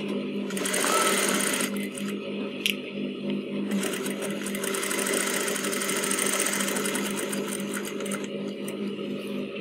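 A sewing machine runs steadily and close up as it stitches the collar of a kurti. The whirring motor and fast needle clatter continue with a brief pause partway through, and no one speaks.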